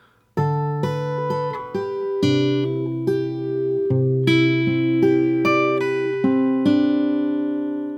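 Acoustic guitar slowly plays the third section of a song, entering after a brief silence with ringing chords and picked notes in an unhurried rhythm, close and alone.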